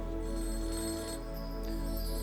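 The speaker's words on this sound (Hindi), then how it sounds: "फोन की घंटी बजती जा रही थी।" A telephone rings repeatedly, with bright trilling electronic tones that keep going over a low steady hum, sounding fairly close with no voices.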